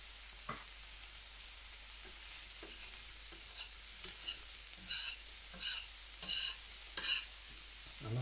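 Two kinds of sausages fry on an Eisenkopf & Söhne carbon steel griddle over a stovetop at reduced heat, giving a steady close sizzle broken by regular scraping clicks as they are turned.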